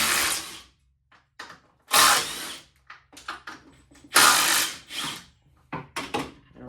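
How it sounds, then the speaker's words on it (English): Impact wrench spinning off 13 mm strut nuts while lowering a Volkswagen GLI, sounding as sharp separate bursts of rapid hammering with quiet gaps and small clanks between them, close by, with no talk. "got 13 millimeter on the impact"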